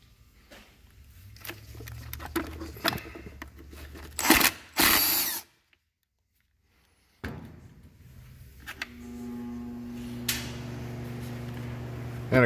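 Power tool loosening bolts on a 2015 Scrambler 1000 transmission, short whirring bursts and metallic rattles up close, a loud burst then a few seconds of silence, followed by a steadier motor hum.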